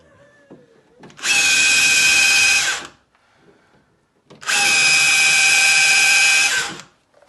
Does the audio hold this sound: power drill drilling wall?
yes